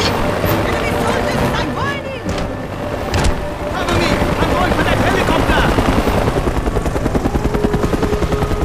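Helicopter rotor chopping in the Xbox 360 game Mercenaries 2: World in Flames, a steady throbbing drone amid gunfire and game noise, with a voice speaking over it.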